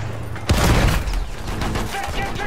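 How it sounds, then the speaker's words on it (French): Gunfire in the World War I shooter Battlefield 1: a heavy burst of shots and a booming blast kick in sharply, followed by continued rattling fire and rumbling battle noise, loud and close. "Il me tire dessus."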